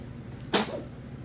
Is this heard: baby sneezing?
yes